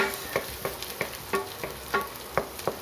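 Chopped garlic frying in a pan for vegetarian pancit canton, stirred with a utensil that scrapes the pan in about eight evenly spaced strokes over a steady, close sizzle.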